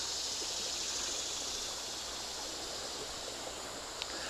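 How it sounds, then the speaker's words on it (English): Creek water flowing at Panther Creek State Park, a steady faint hiss of running water, continuous and even with no voices. "Let's go look at the creek."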